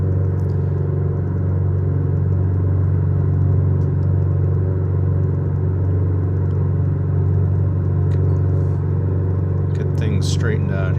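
Cessna 210 with a constant-speed propeller drones at steady cruise power in X-Plane 11 over the Alps, a loud, even low-pitched engine hum that continues unbroken with only faint clicks near the end.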